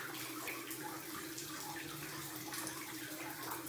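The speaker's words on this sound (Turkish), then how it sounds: "Arkadaşlar, tepeden su akıyor, akan sular yere damlıyor." Water falls from the ceiling onto the floor in the Odessa catacombs, a constant faint trickling and splashing with a hollow underground echo.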